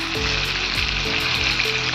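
Dense, steady sizzle of fish pieces shallow-frying in a little oil in a pan, close and continuous with faint bubbling beneath.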